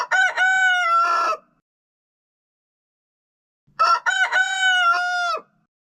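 A rooster crows twice, loud and close, each full cock-a-doodle-doo separated by a few seconds of silence.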